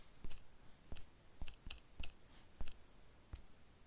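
Light taps land on a phone's touchscreen while a full name is entered in the Baaloo App, about eight sparse, soft clicks spaced unevenly against a quiet background.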